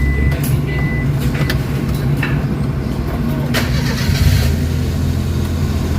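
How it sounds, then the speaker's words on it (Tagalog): A Suzuki DA17 engine runs with a rough, unsteady idle, a loud continuous mechanical drone that holds steady throughout with slight surges in intensity. "ngayon guys, pinandara natin yung makina"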